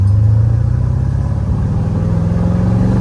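A 1970 Chevrolet Corvette with a 350 small block V8 drives up a road, its engine a loud, close, deep rumble that shifts slightly in pitch as it pulls along.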